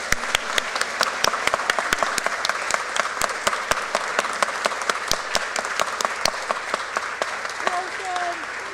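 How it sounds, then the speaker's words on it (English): A room of people applauds to welcome seven new members at a community membership ritual, steady dense clapping running throughout with a few sharp individual claps standing out, and a voice calling out briefly near the end. "if we would just give them a round of applause"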